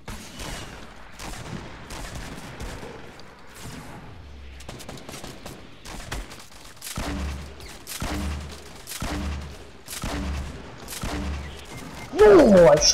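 Gunfire in the video game Fortnite Battle Royale: bursts of rapid shots and heavy thuds come in uneven clusters, mid-distance, with some talk alongside.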